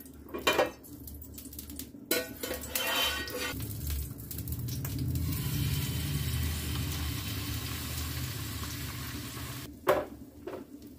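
An egg omelette with fried onion and green chilli sizzling in a pan, a steady frying hiss in the middle stretch, framed by clinks and scrapes of a utensil against the pan at the start and near the end.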